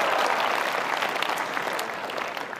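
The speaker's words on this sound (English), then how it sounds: "Don't clap yet, I might suck." Applause from an audience of Air Force Academy cadets greeting a speaker, a broad, continuous wash of many hands clapping at moderate volume that tapers slightly toward the end, with no voices.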